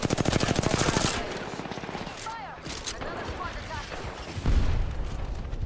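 Video game weapon fire opens with a rapid, loud burst of automatic shots, then drops to quieter combat noise with scattered whistling effects and a low thud near the end.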